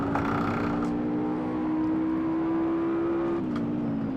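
A racing car engine in the video game Assetto Corsa holds a steady, whining drone with a gradually rising pitch, then drops briefly near the end as it shifts, close and continuous.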